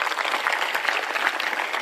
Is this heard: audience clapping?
yes